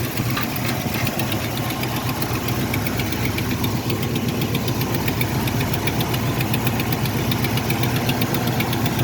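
Classic car engine, either a 1973 Plymouth Fury III or a 1971 Buick Skylark 455, idling with a full glass fuel filter, a steady close rumble with a fast, even ticking pulse and no talking.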